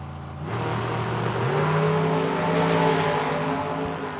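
A Chevrolet S10 and a 1984 Camaro launch at a drag strip, engines surging into a loud, rising roar with a stepped pitch climb that sustains through the run, heard from a short distance.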